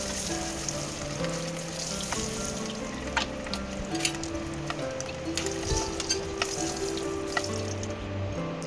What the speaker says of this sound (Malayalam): ഇത്രയും ചേർത്തിട്ട് നന്നായിട്ട് വഴറ്റി ആ മുട്ടയൊന്ന് ഫ്രൈ ചെയ്തെടുക്കണം